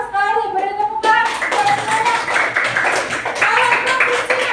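Schoolchildren in a classroom clap their hands together in a loud burst of rapid applause, with several children's voices chanting over it at the start and during the clapping.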